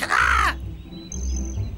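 Harsh, loud caw-like squawk from a parrot at a zoo, one burst of about half a second, followed by quieter background noise and faint higher chirps.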